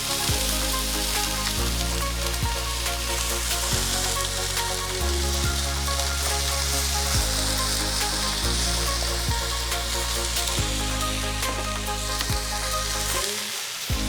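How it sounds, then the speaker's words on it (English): Chicken in Louisiana Cajun seasoning frying on a Blackstone griddle, with a loud, steady sizzle and crackle throughout, with faint metallic scraping accents and no talk. "So while this chicken is cooking in the Cajun seasoning"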